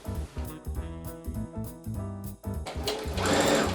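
A sewing machine stitching a seam on fabric while making a portable baby cot, a close, loud, rhythmic mechanical chatter in short runs with brief pauses, ending in a brighter, faster burst.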